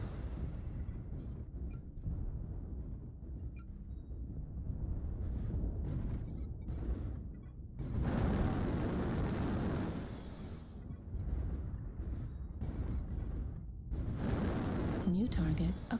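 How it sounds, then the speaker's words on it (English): Artillery strike explosions in a video game rumble as several loud, heavy blasts, swelling and fading in waves. They layer over one another beneath intermittent spoken voice lines. "Artillery strike online."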